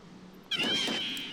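A cat meows once in the video game Final Fantasy XI, a short, bright, rising call after a moment of quiet.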